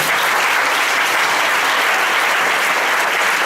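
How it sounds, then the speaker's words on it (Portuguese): Church congregation at an Assembly of God communion service clapping steadily as worship, a dense continuous wash of applause filling the room from start to end with no speech. "As palmas adoram o Senhor."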